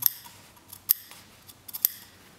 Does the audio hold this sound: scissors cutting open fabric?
yes